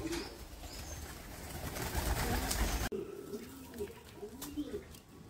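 Old pet pigeons coo in a morning loft, soft repeated rolling coos in a steady rhythm, faint and close, with some background noise that drops away partway through.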